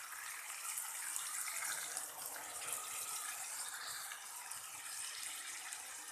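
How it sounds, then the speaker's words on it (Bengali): Water pours steadily into a pan of sajne drumstick and potato curry being cooked for a fish jhol, a continuous splashing hiss lasting several seconds with no talk. "সামান্য একটু জল দিয়ে দেবো।"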